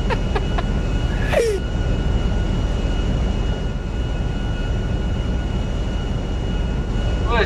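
An airplane engine in GTA 5 roleplay gives a loud, steady drone that fills the whole stretch, with a brief chirp near the start.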